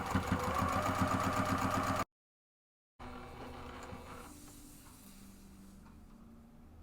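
Sewing machine fitted with a 90/14 needle stitches along the drawstring edge of a summer purse: two seconds of fast, rhythmic stitching, a brief silence, then a quieter, slower running hum.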